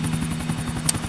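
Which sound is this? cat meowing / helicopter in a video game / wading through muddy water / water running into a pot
helicopter in a video game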